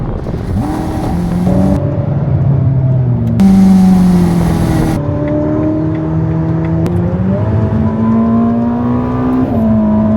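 A Ferrari SF90 pulls hard from low rpm in high gear, its loud engine tone climbing in several rising sweeps with brief gear-change breaks, close and dominant with no voices.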